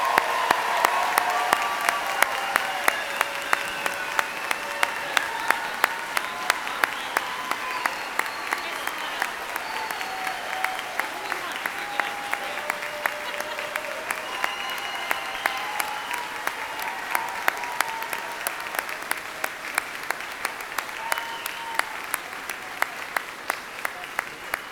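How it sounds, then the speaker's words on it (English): Sustained audience applause at a 2019 high school graduation ceremony, a steady wash of many hands clapping for the whole stretch in a large hall, even and unbroken from start to finish. "Let's give the class of 2019 one more round of applause."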